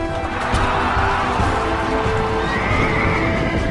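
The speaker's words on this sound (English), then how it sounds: "There was the Hippodrome, where chariot and horse racing events took place." Horses whinny and neigh amid a dense, loud rumble of hooves and crowd-like noise at an ancient chariot race in a hippodrome, continuous and close throughout.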